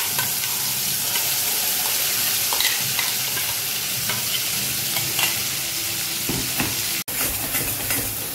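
Cumin, whole spices, cloves and bay leaf roast in hot oil for a butter paneer cashew masala, crackling in a continuous close sizzle with light spatula taps and stirring.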